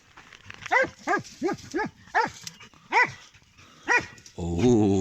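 A dog barks sharply seven times in an uneven rhythm, close and loud, followed by a brief higher whining yelp at the end.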